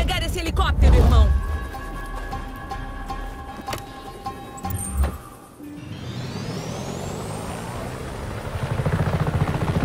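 In Just Cause 3 on Xbox One, a helicopter's rotor thumps and whines loudly, fading and returning amid engine rumble and clunks, while someone speaks excitedly in Portuguese over it.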